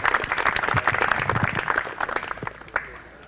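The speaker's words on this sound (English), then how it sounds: "Give a big applause to Team Italy." An audience at a youth amateur radio summer camp training session applauds a team, a lively burst of close, uneven clapping that gradually thins out, with a few stray claps near the end.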